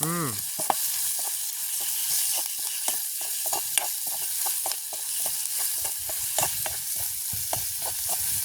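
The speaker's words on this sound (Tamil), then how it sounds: "இப்போ வெங்காயம் உள்ளி மிளகு எல்லாம் நல்லா வதங்கிடுது" Onion, garlic and pepper sautéing in a pan for a village-style curry, a steady close sizzle broken by repeated sharp scrapes and taps of a spoon stirring, with no talk.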